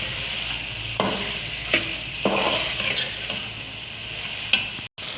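Chopped tomatoes fry for pulao in a pan, a steady sizzle broken by several sharp spoon-against-pan scrapes and taps as they are stirred, close and fairly loud, with no talk.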